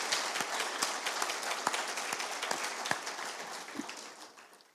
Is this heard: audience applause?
yes